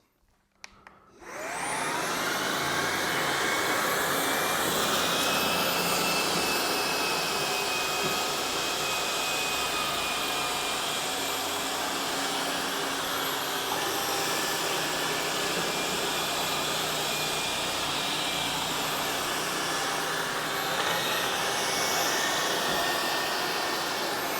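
Tineco Pure One S70 cordless stick vacuum cleaner switching on after a brief click, then running loud and steady with a continuous high whine and airflow roar, close up, no talking.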